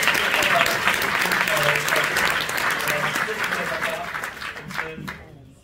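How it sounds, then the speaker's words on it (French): Audience applause for the jury at the closing ceremony of the FEFFS 2024 festival, sustained dense clapping from a large crowd that gradually fades out at the end, with faint voices underneath. "je voudrais encore accorder un applaudissement pour ce jury merveilleux"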